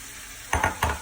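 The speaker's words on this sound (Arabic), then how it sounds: "هنزل هنا الطماطم اللي انا كنت ضرباها في الخلاط" Blended tomato puree hits a hot pan with a few bursts of sizzling and stirring, loud and close, with no talking.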